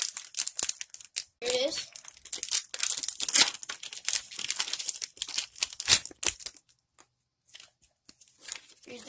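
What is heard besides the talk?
tearing open a Pokémon card booster pack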